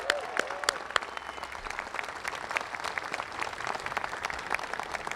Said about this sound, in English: One round of applause for you.